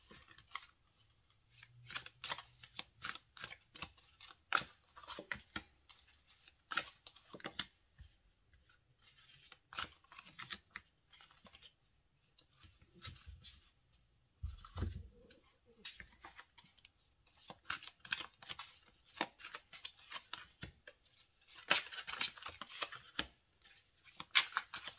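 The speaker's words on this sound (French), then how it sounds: "Donc je vais déjà poser toutes les cartes." Tarot cards are dealt and laid out on a table one after another, with soft repeated slaps, slides and shuffling rustles, close and quiet, some louder flurries near the end.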